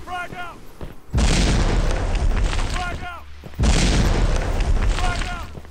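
Grenade blasts in the video game Red Crucible: Firestorm: two loud, deep booming explosions, each erupting suddenly and rumbling for a couple of seconds, with faint voice-like chatter between them.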